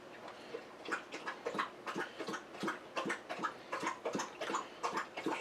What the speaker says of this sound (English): You can hear my dog drinking water in the background.